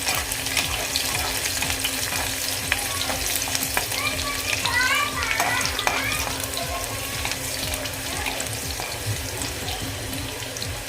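Crushed garlic frying in a pan for kang kung greens, with a steady loud sizzle and occasional stirring clicks from a utensil close by, no speech.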